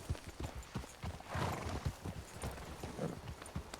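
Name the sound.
horse hooves clip-clopping in a video game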